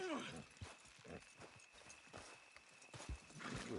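Hooves of working horses clop faintly and irregularly at a walking pace, nearby but quiet, with a voice talking over the steps.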